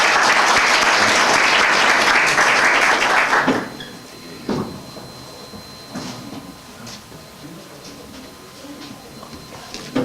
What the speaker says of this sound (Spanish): Démosle la bienvenida al doctor Yerlotó, con un aplauso.